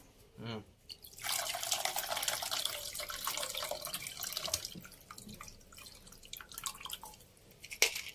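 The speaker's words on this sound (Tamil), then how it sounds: "இனி புளி தண்ணி ஊற்றுவோம்." Tamarind water pours steadily into a pot with a rushing, splashing hiss, followed by a few drips and small clinks, while making fish curry.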